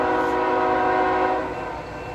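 A CSX freight train hauled by BNSF locomotives passes close by, its horn blaring in a loud, sustained chord that fades slightly at the end over the rumble of the train.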